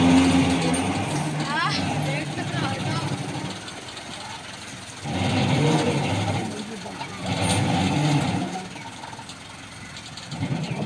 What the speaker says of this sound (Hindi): शैम्पी की गाड़ी को स्टार्ट करने लगे हैं काके मुसेर की फेवरेट गड्डी है फिएट 400 भैया